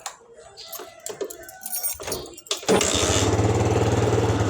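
A few clicks and rattles, then an old Honda Sonic motorcycle with a stock carburetor and stock exhaust fires up and settles into a steady, close running drone.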